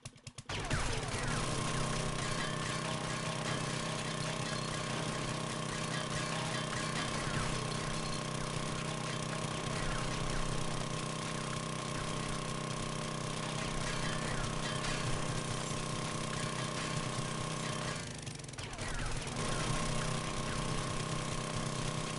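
A vehicle engine idles steadily in the 7 Days to Die video game (PS4), a continuous droning hum with a constant rhythm throughout, briefly dipping near the end, with no talk over it.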